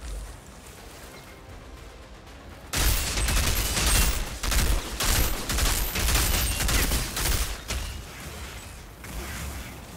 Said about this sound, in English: There's some more mortar rounds.